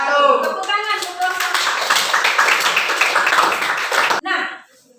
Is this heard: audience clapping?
yes